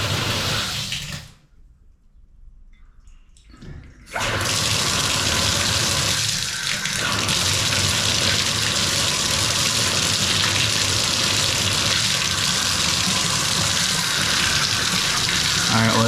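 Water rushes steadily and loudly from a newly connected house water line during a home renovation in The Villages, Florida, starting after a brief quiet gap and continuing as a constant broadband hiss.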